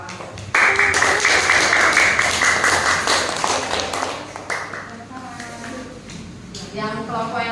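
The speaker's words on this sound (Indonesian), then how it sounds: "Yuk, tepuk tangan untuk kelompok anggur." A classroom of students claps loudly for a group in a lesson, a burst of dense applause lasting several seconds that thins out as voices rise and chatter takes over.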